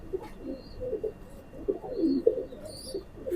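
A female teddy pigeon cooing nearby, soft repeated low throaty coos in an uneven rhythm, with faint chirps in the background.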